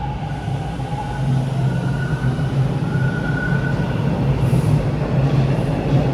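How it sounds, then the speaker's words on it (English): A steady, loud rumble of a Toronto TTC subway train running along the rails at Victoria Park Station, with faint whining tones rising briefly above the roar. "Oh, there's the westbound train."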